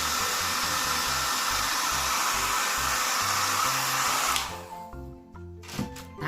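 A hair dryer drying a paper piñata roars loudly and steadily up close for about four seconds, then switches off, leaving quieter background sounds.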